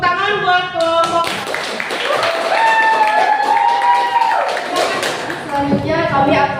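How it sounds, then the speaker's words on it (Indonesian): An audience claps for a presenting group in a classroom session, a burst of applause that swells and then tapers off, with voices mixed in. "Oke, tepuk tangan buat kelompok."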